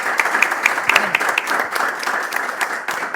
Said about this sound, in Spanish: vamos a despedirles con un fuerte aplauso